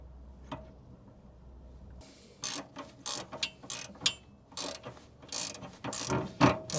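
Metal ratcheting and clicking come in irregular bursts as an Allen key tightens an anti-roll bar drop link on a Ford Transit Connect Mk1, close and moderately loud.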